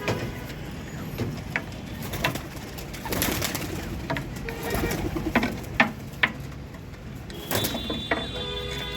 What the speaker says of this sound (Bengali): এই 10টা পায়রা আজকে ছাড়া হচ্ছে